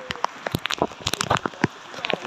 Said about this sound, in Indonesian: Hujan dalam hujan.